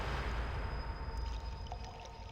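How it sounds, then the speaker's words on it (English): Running or lapping water from the Baldur's Gate 2 Enhanced Edition game, a steady, soft broadband wash that holds at a constant level with a faint tonal hum beneath and no talk. "You can hear the water."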